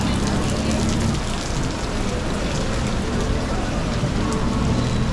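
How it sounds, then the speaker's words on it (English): Heavy rain pours down on a city street, a dense, constant roar of drops hitting surfaces, loud and close, with no let-up across the whole stretch. "It's pouring."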